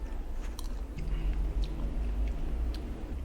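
Someone chews a spoonful of beef brisket and bean sprout stir-fry close to the mic, with soft, moist bites and mouth sounds over a low, steady background hum.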